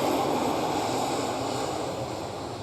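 A KLM Cityhopper Embraer E190 taking off at Amsterdam Schiphol, a loud, steady jet roar that fills the whole moment without letting up, heard outdoors with no voices.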